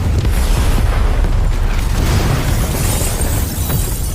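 A loud, dense blast roars through an action film scene, a sustained rumbling burst with crackling debris that holds at full strength for several seconds before easing slightly.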